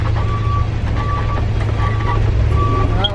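A truck reverses on a rough road in Guatemala, its backup alarm beeping four times at an even pace over loud, low engine rumble.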